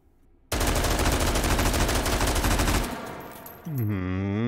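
AR-18 rifle with muzzle brake and foregrip, no stock, in H3VR, firing a rapid loud burst of close, sharp shots for about two seconds, followed by rattling mechanical clatter and a rising electronic tone.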